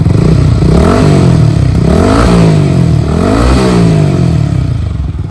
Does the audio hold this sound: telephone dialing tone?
no